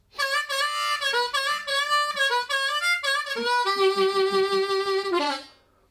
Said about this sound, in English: you've just got a harmonica like this one